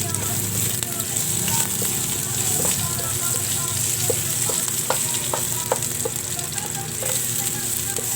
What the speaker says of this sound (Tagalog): Sa mainit na wok may kunting cooking oil. Ilagay ang garlic crust. Onion slice.